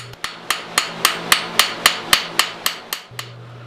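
A small cross peen hammer strikes a rivet head, expanding it into a counterbore on a forged sliding bolt latch: about a dozen sharp, ringing metallic blows at a steady, quick rhythm, close and clear, with no talk.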